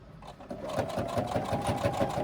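A sewing machine stitches the bottom of a crossbody bag pocket in a short, close burst, its needle thumping in a quick, even rhythm over the motor hum.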